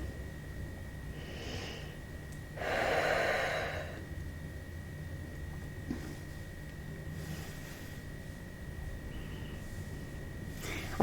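A single loud breath drawn or let out during a mat Pilates exercise, lasting about a second, with a few fainter breaths later over a steady low background hum.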